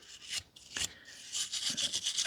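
A brush sweeps dust from a vintage Corgi die-cast Lotus Climax F1 model, giving soft, close scratchy rubs in short strokes, faint and with no talking.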